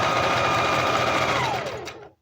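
A sewing machine stitches an apron in a fast, continuous whir with a steady mechanical pulse. The motor winds down and stops near the end.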